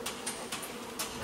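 Bees buzz in a hotroom, a quiet continuous drone with a few brief louder passes as individual insects fly near.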